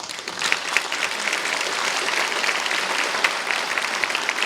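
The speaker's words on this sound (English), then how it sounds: "could you please give a warm welcome and a huge round of applause to Mr. Tommie Gorman." An audience at a charity evening of song for a cancer support network breaks into warm applause, a dense, sustained clapping from many hands heard fairly close and alone for several seconds.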